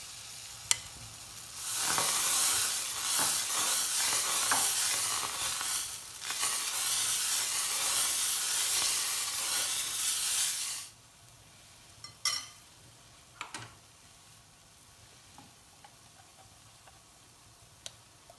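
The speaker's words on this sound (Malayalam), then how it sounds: "കുറച്ച് മാവ് ഒഴിച്ച് കൊടുത്ത് പരത്തി കൊടുക്കാം നമുക്ക്" Jackfruit dosa batter spread on a hot oiled griddle gives a loud, broad sizzle for several seconds, then quiets to a faint crackle broken by a few scraping clicks.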